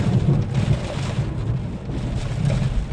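A thunderstorm with rain and lightning produces a loud, continuous low rumble of thunder over a dense wash of rainfall that swells and eases throughout.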